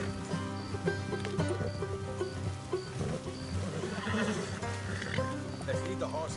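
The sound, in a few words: horses neighing and hooves in Red Dead Redemption 2 video game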